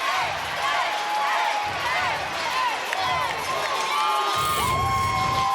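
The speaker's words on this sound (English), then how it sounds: "And the crowd's going crazy. It is so loud in here right now." A packed arena crowd cheers and roars loudly throughout a college gymnastics meet, with surging whoops and shouts over commentators talking.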